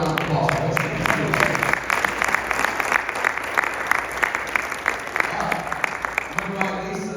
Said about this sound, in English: I'm going to go ahead and give another round of applause for Coach Kennedy.